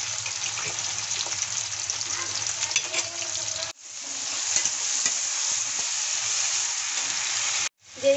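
Onion, green chili, cumin and ginger paste frying and being stirred in a pan for a Bengali fig curry, a steady close sizzle with stirring scrapes that cuts out briefly twice.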